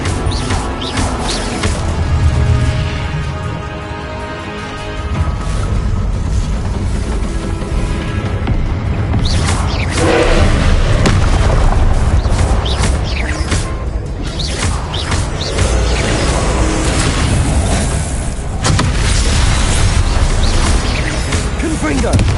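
Repeated fire-blast spell explosions from the Confringo spell in the Hogwarts Legacy video game, loud booms and crashes layered over dense game music and effects, with a voice calling out spell names throughout.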